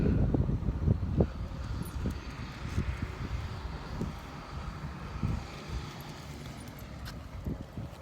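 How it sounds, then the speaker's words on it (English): A distant airplane drones overhead outdoors, a faint steady rumble with wind buffeting and low thumps close by, no one talking. "See an airplane somewhere."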